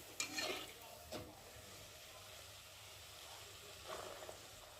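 Pea-filled kachori frying in hot oil, a soft steady sizzle with a few stirring clatters near the start and a brief burst near the end.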